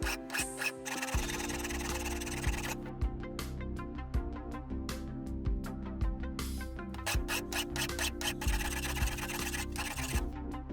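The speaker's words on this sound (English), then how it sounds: "Clean the remains with a file." A hand file rasps against the cut-off remains of a metal nail on a homemade clamp, in a run of short, rhythmic strokes, close up, over soft background music.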